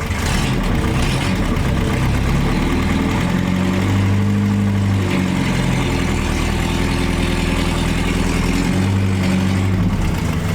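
A 1960 Mercedes-Benz engine idles steadily and close by, a low, continuous rumble with even mechanical pulsing that holds throughout as the car is put into first gear, with no talk over it.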